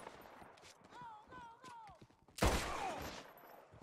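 Dual pistols fire in the Red Dead Redemption 2 video game, a sharp loud shot with ringing tail after quieter game sounds and a tonal whine.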